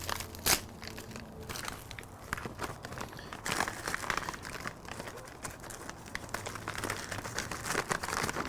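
A freeze-dried steak pouch is handled and ripped open close by, giving crinkling plastic, crunchy crumpling, and a brief sharp tear with no speech.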